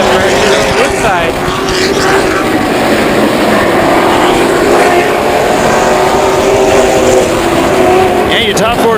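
Late model race cars roar around Havasu 95 Speedway in a 100-lap feature, a loud continuous pack of engines with rising and falling pitch as they pass, while an announcer talks over the noise.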